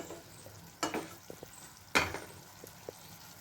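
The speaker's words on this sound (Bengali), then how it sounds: "একটু নেড়ে চেড়ে দেবো।" Rice being stirred in a wok for a fried-rice dish, heard as two sharp scraping strokes and a few soft clinks over a low quiet background, close and without talk.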